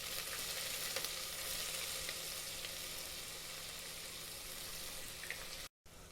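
Onions and curry leaves frying in a pan for a vallarai keerai kootu: a steady, close sizzle hisses throughout, with one brief dropout near the end.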